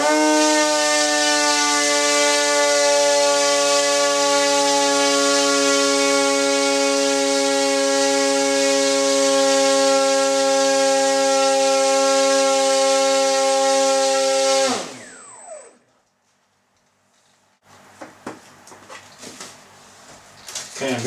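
Small electric motor spinning at high speed on a kitchen thrust test stand, a loud steady whine with stacked harmonics that holds for about fifteen seconds, then sweeps down sharply as it cuts out, leaving faint rustling.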